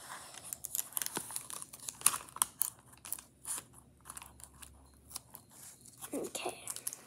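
Sticky tape being pulled, handled and torn while making a bandaid box: close, irregular crinkling, crackling and ripping bursts over several seconds, with faint background talking.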